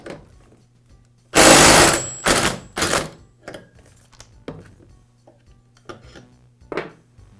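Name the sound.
impact wrench removing chainsaw clutch with clutch removal tool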